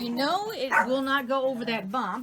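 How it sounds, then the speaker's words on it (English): Dogs bark and whimper in short yips close by while someone talks over them. "Excuse the dogs, they heard something."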